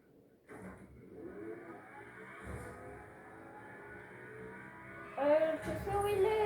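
A car engine in a video game hums steadily and then revs upward toward the end, its rising whine prominent over a busy game soundscape.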